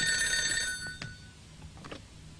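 A telephone bell rings loudly for the first half-second or so and then cuts off, followed by quiet room tone with a few faint knocks and rustles.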